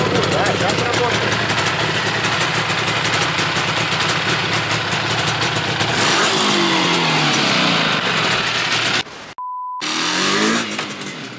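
Engine of an Izh Jupiter 5 motorcycle running steadily and loud throughout, with a brief cut near the end, on a first trial ride at about +16 degrees.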